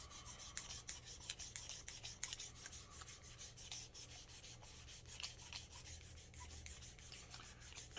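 A cleaning rod brush scrubs inside the barrel of a Sig Sauer P290RS pistol, making faint, rhythmic rasping strokes that repeat quickly and close to the microphone.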